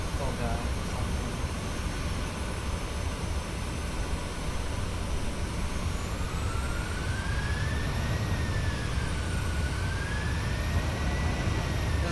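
Boeing 737-800 jet engines roar at TOGA thrust in Microsoft Flight Simulator on a flight from Oslo to Bergen, a loud, continuous wash of noise with a wavering whine rising and falling above it.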